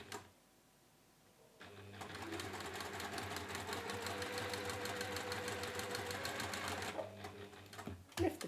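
A sewing machine stitches a zig zag quilt in a fast, steady mechanical chatter that runs for several seconds after a quiet start, then stops with a few clicks and handling noises.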